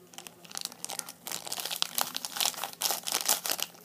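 A silver foil Nerunerune candy packet being torn open, with continuous close crinkling and ripping of the wrapper for several seconds, fairly loud and without talk.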